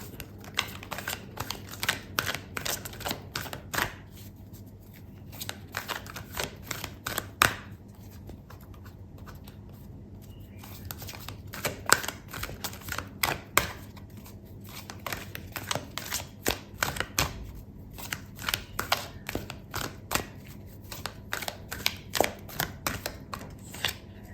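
Tarot cards are shuffled and drawn by hand, a run of soft, quick papery snaps and slides in irregular bursts, close and fairly quiet.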